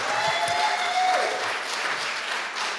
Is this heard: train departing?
no